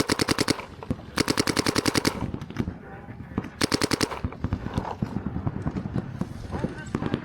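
Video game gunfire in rapid automatic bursts, several quick rattling volleys with pauses between them, mixed with a person talking over the action.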